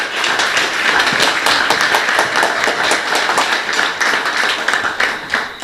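Dense, loud clapping from an awards ceremony audience honouring a youth award recipient continues unbroken for several seconds, a close and busy patter of many hands.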